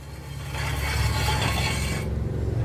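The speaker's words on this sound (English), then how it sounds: "And go ahead and jack her up." A car jack is worked to lift a 2005 Hyundai Elantra during a rear wheel bearing and hub replacement, producing a close, rhythmic mechanical grinding and ratcheting that swells after a quiet start and then drops off abruptly.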